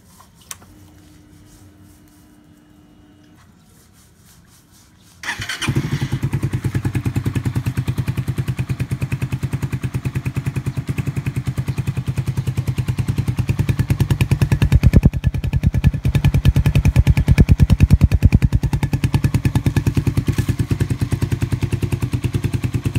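Raider 150 Fi motorcycle with a modified exhaust, quiet at first, then starting up and running close and loud with a throaty, pulsing rumble and revs that build toward the end.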